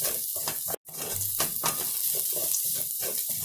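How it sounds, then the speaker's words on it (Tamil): Peanuts and grated coconut roast in a pan, giving a dry sizzle with rhythmic stirring scrapes and a brief clunk near the start. "வேர்க்கடலை, தேங்காய் போட்டுலாம் நல்லா வறுத்துக்கலாம்."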